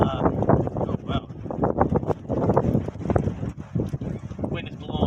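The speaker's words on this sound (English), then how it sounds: "The wind's blowing all the ash out of my old wood stove." Wind gusts hard outdoors at a campsite and buffets the microphone in uneven roaring pulses, while someone talks close by under it.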